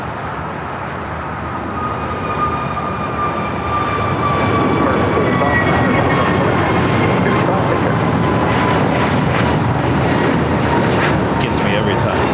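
A Delta jet on its takeoff roll from runway 25 right at LAX, its engines building to a loud, sustained roar that holds steady and rises slightly, with a radio voice talking over it.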